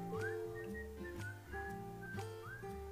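Pressure cooker whistling on a stove while mutton masala cooks in a home kitchen, a few repeated rising whistle tones over a steady hiss and low hum, close and fairly loud, with no talking.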